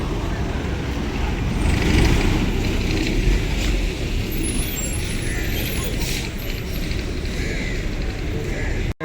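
A KSRTC bus from the Ankola depot, bound for Athani, Hubballi and Karwar, idles and rolls at Karwar bus stand with a low engine rumble, mechanical clanks and a brief air-brake hiss near the end, voices faint in the background.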